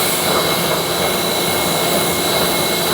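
A pressure washer jet sprays a Rover 75 car in a loud, steady, continuous hiss and roar, close up and without any talk.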